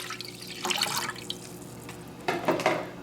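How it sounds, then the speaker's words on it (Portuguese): Water splashes and trickles into a cooking pot for risotto, a soft uneven pouring and gurgling in a home kitchen under a low steady hum, with no one talking. "Nós vamos colocar a água para ferver."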